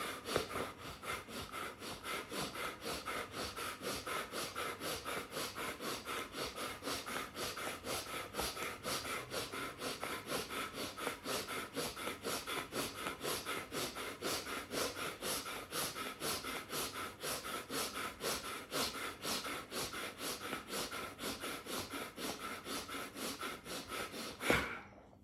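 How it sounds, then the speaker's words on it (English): Steady rhythmic breathing in and out during a seated yoga pranayama breathwork session, heard as continuous close airy breaths repeating evenly for the whole stretch with no talk over them. "So breathe in and out together with it."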